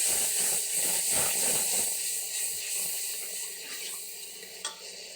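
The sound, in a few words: pouring water onto onions while cooking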